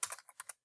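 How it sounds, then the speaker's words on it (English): Fingers type a few quick keystrokes on a computer keyboard, soft, close and alone, in a short irregular burst. "So I click up in the top line there and start typing."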